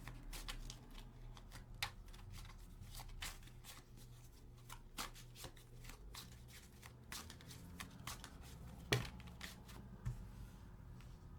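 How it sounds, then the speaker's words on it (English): Tarot cards are shuffled quietly at close range, giving soft, irregular riffling and tapping under a faint steady hum. "We're going to keep shuffling here."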